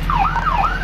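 A wailing emergency vehicle siren from the Roblox game Greenville sweeps up and down in a loud, close, continuous cycle over a low engine rumble, with no talking.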